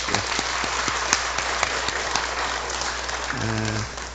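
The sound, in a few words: congregation applauding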